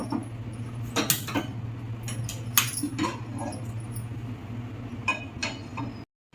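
A metal kadai is set on a stove with several sharp metallic clinks and knocks from pans. A low steady hum runs underneath, and the sound cuts off abruptly near the end.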